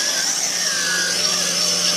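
JJRC H28C quadcopter drone with gimbal and removable rotor arms coming in to land, a loud continuous high-pitched rotor whine close by, its pitch drifting slightly as it descends.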